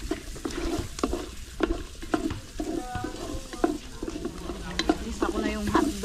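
Onions sauté in a pan for Filipino-style spaghetti, with a soft crackle and rhythmic spatula scrapes against the pan, close and moderate in level, no talking.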